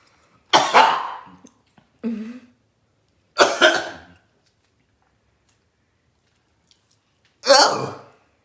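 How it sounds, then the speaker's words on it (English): Coughing after eating chicken wings coated in Carolina Reaper hot sauce: four separate harsh coughing bursts spaced over several seconds, close and loud, with silence between them. "It's hot enough to make me cough."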